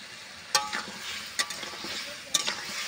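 Fish curry in a pan with salt added, being stirred, giving three sharp scraping strokes of a spoon against the pan spaced about a second apart over a faint sizzle, no voices.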